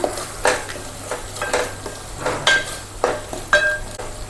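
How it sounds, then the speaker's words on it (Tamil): Prawns and tomatoes sautéing in oil in a pan, a soft sizzle beneath about eight rhythmic stirring scrapes of a utensil against the pan, close and free of speech. "நேராக ஒரு ஃபைவ் மினிட்ஸ் மட்டும் நல்லா வதக்கி விட்டுக்கலாம்"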